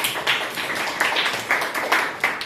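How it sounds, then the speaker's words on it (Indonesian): Students in an Indonesian history class clap for a classmate with distinct, moderately loud hand claps that come in uneven bursts over a couple of seconds. "beri tepuk tangan sekali lagi untuk Ihsan."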